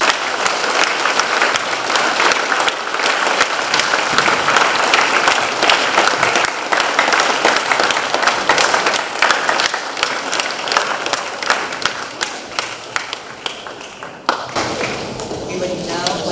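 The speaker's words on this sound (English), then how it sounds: "as we honor you with a round of applause" A school Memorial Day program audience gives sustained applause for veterans, police, firefighters and EMTs, a loud, dense crowd clapping that continues for many seconds, thins slightly toward the end, then picks back up with scattered claps.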